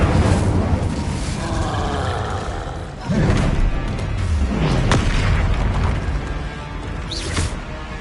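The Incendio fire spell cast in the Hogwarts Legacy video game: loud, dense blasts and whooshing bursts in quick succession with crackling impacts, close and forceful, no voices heard.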